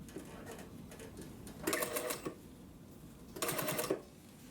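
Flat industrial sewing machine stitching coat sleeve seams, two bursts of rapid mechanical running, each about half a second long, separated by quieter handling noise in a workshop.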